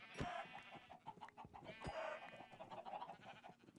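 Blocky Minecraft chickens give a string of clucks and squawks, moderately loud and close, repeating irregularly with no one talking.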